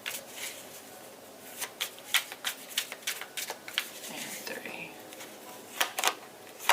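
Tarot cards are shuffled in a series of quick, crisp riffling bursts, close and fairly quiet, separated by short pauses, with a person speaking softly between them.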